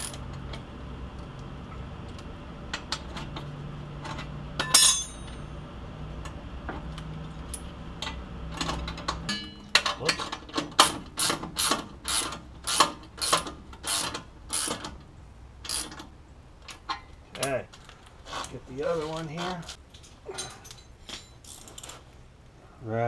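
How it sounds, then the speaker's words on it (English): Ratcheting socket wrench tightening 3/4 bolts on the front end of a restored 1972 Oldsmobile Cutlass. Quiet clicking runs throughout, then bursts of sharp, rapid ratchet clicks follow from about ten seconds on, close up and with no talk. "Go ahead and start tightening these bad boys up."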